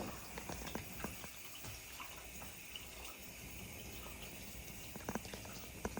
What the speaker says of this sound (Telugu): వాటర్ తీసుకుంటుంది వాటర్ సౌండ్